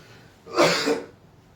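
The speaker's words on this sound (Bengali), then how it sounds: "সরি কাশি চলে আসছিল।" A single short cough from a woman presenting saris on a live sale, close and fairly loud, rising from a faint background and fading after about half a second.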